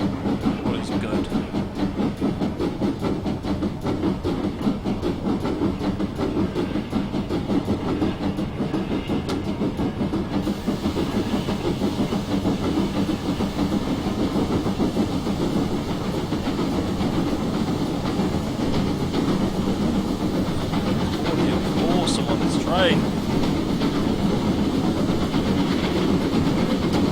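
A GWR Castle steam locomotive on the West Highland Line in Train Simulator 2016, a steady rolling rumble with rhythmic wheel clatter continuing throughout and a brief whistle-like tone near the end.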